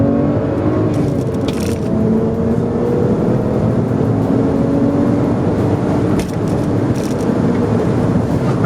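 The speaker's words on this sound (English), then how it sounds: "these cars just have that really cool, like, jet turbine sound to them" A stock BMW 335i with the N54 twin-turbo engine and a six-speed manual, heard as a loud, steady drone with a whooshing, turbine-like whine and rising tones, as if heard from inside the car under way.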